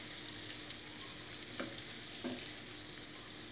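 Potatoes fry in a pan with a steady close sizzle, and a few soft scrapes of stirring break through the bubbling.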